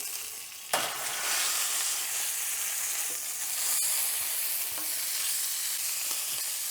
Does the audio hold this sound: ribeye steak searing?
yes